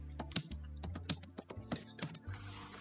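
Rapid typing on a computer keyboard while entering text into a Microsoft Word mail merge document, with close, uneven bursts of key clacks and short pauses between them.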